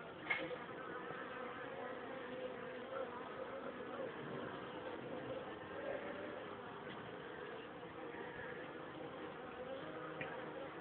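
Honeybees hum around a hive as a wasp attacks them, a faint, steady, busy buzzing drone with small flutters, heard alone from close by.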